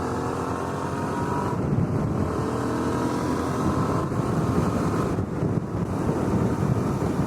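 Suzuki V-Strom 650 motorcycle cruising on a freeway, a loud steady roar of wind buffeting the helmet microphone over engine and road noise, continuous with brief dips.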